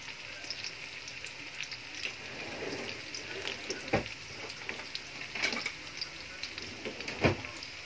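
Garlic and onion fry together in a pan with a soft, steady sizzle, broken by occasional clinks and stirring scrapes, close by and fairly quiet.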